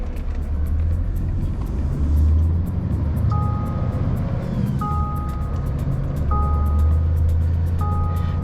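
A loaded Scania V8 truck carrying about 30 tonnes of waste drives along, a steady low engine rumble close and loud with a few brief tonal beeps repeating.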